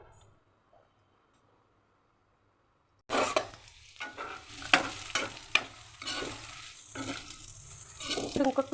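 Onion pieces dropped into hot oil in a pan, a sudden sizzle after near silence, then crackling with stirring scrapes and metallic clinks, close and moderately loud.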